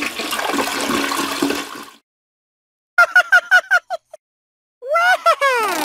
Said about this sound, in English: Time to flush!